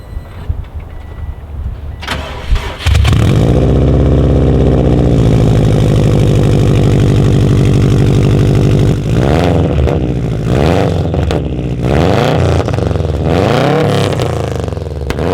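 A Subaru STI fitted with an Invidia G200 exhaust cranks and fires up, settling into a loud, throaty idle, followed by several sharp revs that rise and fall near the microphone.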